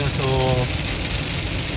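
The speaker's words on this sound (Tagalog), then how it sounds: "So ayun na mga guys, sobrang lakas ng ulan mga guys." Heavy rain pours steadily around a vehicle on a road, a dense continuous hiss that stays loud throughout, with a brief low engine-like hum near the start and a short spoken word at the beginning.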